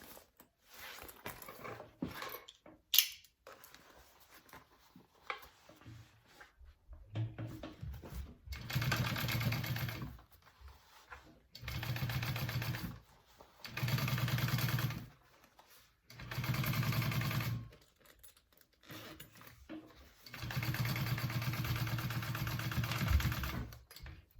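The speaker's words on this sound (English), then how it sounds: "So this is what it looks like from the back when I'm top stitching." A sewing machine topstitching a bucket bag runs in several steady whirring bursts of a few seconds each, separated by quiet pauses and small handling clicks, heard up close.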